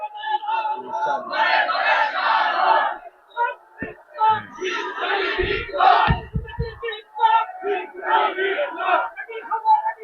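A crowd at a Bengali Islamic sermon shouts the takbir in unison, three loud massed bursts of voices separated by short pauses, with a few thumping knocks between them.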